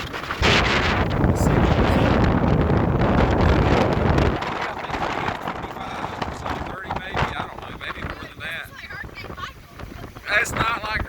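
Wind from Tropical Storm Cristobal at Panama City Beach, Florida, roars and buffets the microphone loudly for several seconds, then eases into a gusty, rumbling rush with intermittent blasts.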